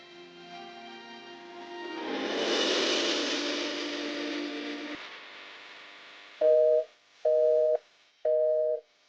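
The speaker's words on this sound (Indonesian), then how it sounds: "Kok sibuk sih teleponnya?" A phone line gives a busy signal after a call is dialed: a sustained dial-like tone swells and fades, then three loud, evenly spaced beeps ring out clearly with no talk over them.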